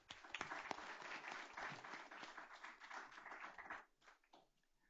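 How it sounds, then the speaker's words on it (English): A board meeting audience claps for culinary arts program students, brisk applause with a few sharp nearby claps, holding steady for about four seconds before thinning and fading. "Let's give them a round of applause."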